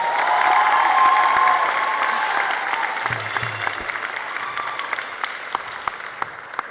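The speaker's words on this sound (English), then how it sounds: "You can give her another round of applause." Audience applause after a dance performance at an Arangetram recital, a sustained wash of many hands clapping with a few cheers, fading gradually into scattered claps.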